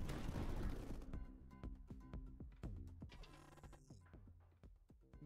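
Reaper cannon in the video game Tower Dominion fires a rapid string of sharp, loud blasts that start dense and heavy, then thin into spaced, ringing impacts as the barrage trails off.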